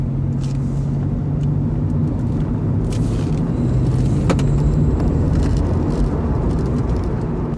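Interior of a final-model Honda CR-Z hybrid sports car on a test drive, with a steady low engine and road rumble that holds throughout and brief faint higher tones over it.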